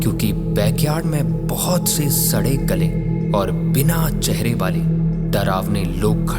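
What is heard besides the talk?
No everyday noises stand out.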